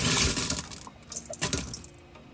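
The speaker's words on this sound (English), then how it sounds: "So here we go with the pouring of the rest of it." Rocks poured into a rock tumbler barrel, a burst of clattering and rattling stones at first, then thinning into scattered clinks and knocks, close up.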